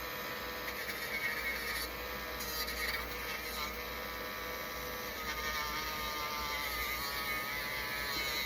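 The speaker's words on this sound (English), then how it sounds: "Now this is my heavier sandpaper." Heavy sandpaper rubs against a paper car wheel in a continuous close, gritty scraping that holds steady and fairly quiet over a faint background buzz.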